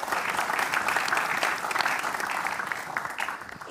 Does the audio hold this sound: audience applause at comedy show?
yes